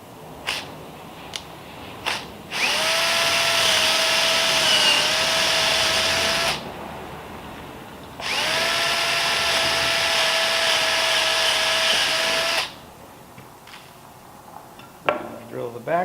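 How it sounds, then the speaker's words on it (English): A power drill with a 3/16 inch bit boring clearance holes for number 12 screws through a wooden boat plank end repair, two loud steady whining bursts of a few seconds each, separated by quiet pauses with small knocks. "I'll just drill through."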